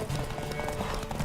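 Hoofbeats of a horse galloping in a race in The Witcher 3, rapid rhythmic clip-clop under game music and a voice, brief and fairly close.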